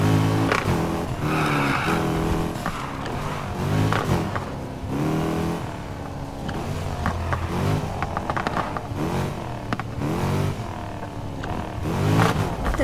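A car in the Need for Speed Heat video game brakes hard and skids, tires squealing in repeated bursts over a steady engine roar, loud and close throughout with no talking.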